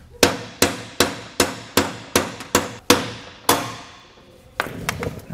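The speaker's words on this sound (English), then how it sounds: "Now we can take our hammer and remove our last bolt." A hammer drives out a leaf spring bolt on a trailer: about nine sharp, ringing metal blows in a steady rhythm, each with a short decay, followed by a softer clatter of metal.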